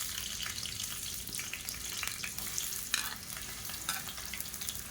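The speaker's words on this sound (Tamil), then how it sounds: "எண்ணெய் சூடானதும் மீடியம் சைஸாக 2 பெரிய வெங்காயம் நீளமாக நறுக்குனதை சேர்த்துக்கலாம்" Steady hissing sizzle of sliced onions frying in hot oil for chicken gravy, with faint stirring and scraping clicks throughout, no voices.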